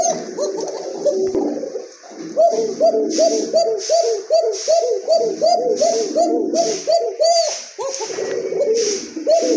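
A male pigeon coos in a quick run of repeated rolling calls, close and loud, with short pauses between bursts.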